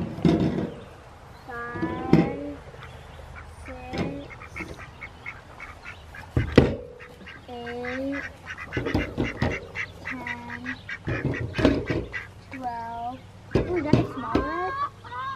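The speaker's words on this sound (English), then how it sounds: "Oh, there'll probably be two chickens in here." Chickens, including a broody silky hen, cluck and squawk inside a coop at close range, with repeated short calls scattered through steady background noise while a person talks nearby.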